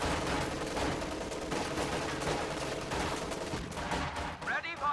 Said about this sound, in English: Kubelwagen will fire on the building from range